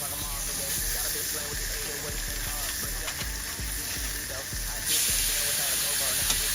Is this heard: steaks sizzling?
yes